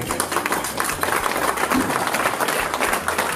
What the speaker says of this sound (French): je crois qu'on peut les applaudir, ça peut être sympa